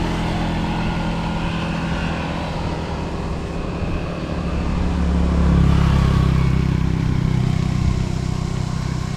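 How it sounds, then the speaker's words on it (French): A motorcycle passes on a street in a Thai neighbourhood near jungle, its engine drone swelling to a peak midway then easing off, set against steady traffic and ambient background noise. "Il y a une meuf à moto."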